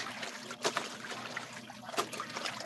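Laundry being hand-washed in water, quiet soft trickling and sloshing with a couple of sharper splashes, close by and otherwise free of talk.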